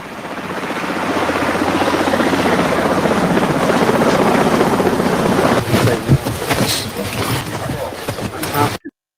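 A helicopter roars loudly and steadily nearby, its rotor thrum mixed with heavy wind buffeting, with scattered rustling toward the end before it cuts off.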